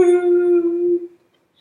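A single loud, sustained wailing howl like a dog's, holding a steady pitch for about a second before fading to silence.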